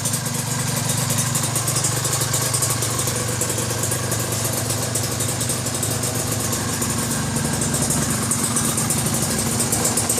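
A Kawasaki ZX150 race motorcycle fitted with a Japanese PWK28 carburetor runs steadily at idle in a workshop, a continuous close mid-pitched engine drone with slight vibration and no talk.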